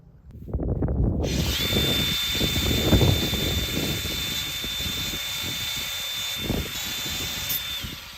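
A power drill on an off-grid homestead barn build whirs steadily at close range for several seconds, with a high constant whine over clunky handling noise and no voices.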